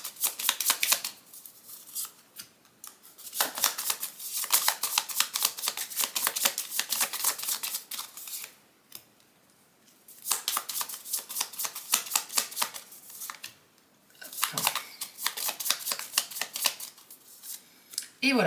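Oracle cards shuffled by hand in repeated rapid riffling bursts separated by short pauses, crisp and close for a crystal ball reading.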